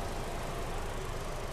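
A 2018 Toyota Innova 2.0 E idles quietly, giving a steady low engine hum with no talk.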